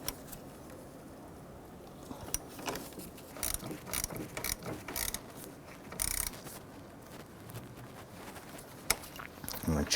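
Ratchet snugging down the positive battery terminal on a 2006-2013 Chevrolet Impala: quiet, close bursts of rapid clicking from the pawl, with short pauses between strokes.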